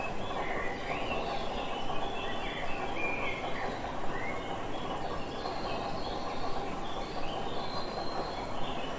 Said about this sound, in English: all these bird noises in the background